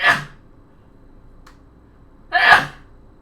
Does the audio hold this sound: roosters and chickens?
no